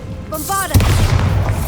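A Bombarda blasting spell in Hogwarts Legacy fires with a rising magical chime, then a loud, close boom follows with a rumbling tail.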